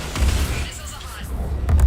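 Missiles exploding during a Mass Effect 3 battle: a continuous, heavy rumbling barrage with deep booms rolling into one another, loud and close, with a sharper burst near the end.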